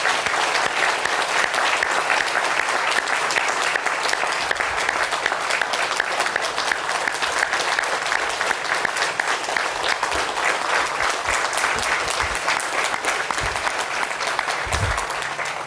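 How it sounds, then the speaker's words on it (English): Enthusiastic crowd applause for police officers at a parkway groundbreaking ceremony in Florida, dense and steady throughout, a long round of clapping from many people without a break. "let's give our men and women in blue a big round of applause"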